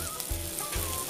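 Soft chopped tomatoes and spices frying in oil for Bengali-style egg tadka give off a steady, close sizzling hiss, broken by a couple of soft low thumps, with no voices.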